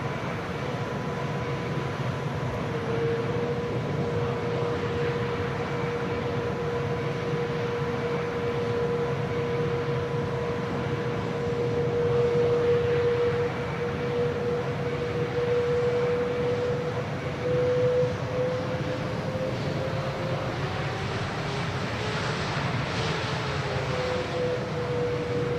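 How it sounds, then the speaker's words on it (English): Airbus A330-900neo engines in the X-Plane flight simulator, a steady whine and rumble held at a constant level with a sustained tone that bends slightly near the end, with no voices. "Those engine sounds are amazing"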